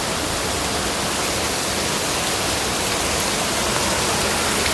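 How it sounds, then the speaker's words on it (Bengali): Heavy rain pours onto a rooftop in Kolkata, a dense, steady roar of rainfall that stays loud and unbroken throughout with no voices. "ওই জায়গাটায় দেখুন কি পরিমাণে বৃষ্টি হচ্ছে"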